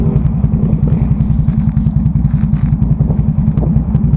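A Can-Am Renegade 1000 ATV churning hard through mud, its engine roaring loud and close with a rapid, steady pulsing throb and some clattering, with no talk.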